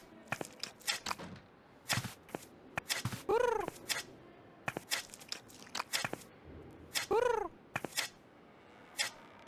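A cat meows twice in the video game Edna and Harvey: Harvey's New Eyes, each a clear rising-falling mew, spaced several seconds apart among sharp clicks and crunchy tearing noises.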